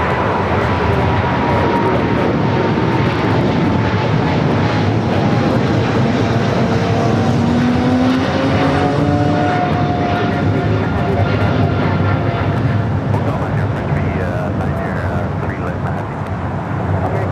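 A Swiss jet airliner bound for Zurich roars away from LAX, a loud, continuous engine rumble with rising whine tones holding steady throughout, heard outdoors close by.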